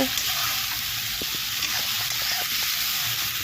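Spice paste frying with browned onions in a pan for a Bengali katla fish curry gives a steady, close sizzle throughout, with faint scraping stir strokes scattered across it.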